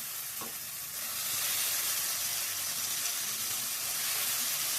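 Cut brinjal pieces frying in coconut oil in a pan, a steady broad sizzle that rises after a brief clatter as the pieces go in, close and continuous.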